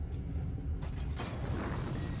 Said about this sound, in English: then the door opens